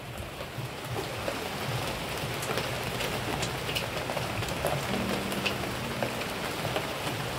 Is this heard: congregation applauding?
no